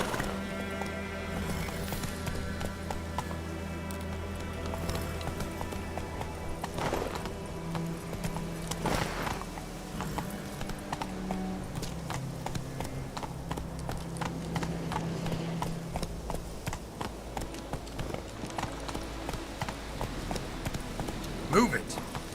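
A horse gallops in The Witcher 3, its hooves clip-clopping rhythmically over game music and ambient sound, with a voice speaking now and then.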